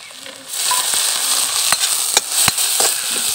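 Coriander leaf paste frying in a pan with turmeric powder, a steady broadband sizzle that swells after a quiet start, with a few sharp spatter pops and light stirring scrapes, close and without speech.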